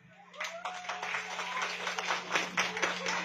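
Scattered group clapping rings out for a contestant at a kids' Halloween party, with sharp, uneven claps repeating over a low steady hum.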